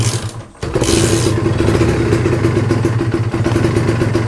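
A two-stroke Kawasaki Ninja motorcycle with a slightly weak battery and carbon-fouled compression revs close by, a steady loud buzzing drone with a rattling exhaust after a brief dip near the start, no voices.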